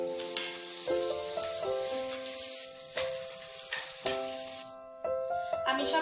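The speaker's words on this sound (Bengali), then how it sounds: "বাকি কোপ্তাগুলো একইভাবে ভেজে নেব।" Soybean koftas fry in hot oil, a close steady sizzle broken by utensil clinks and stirring scrapes, with a short quieter stretch near the end.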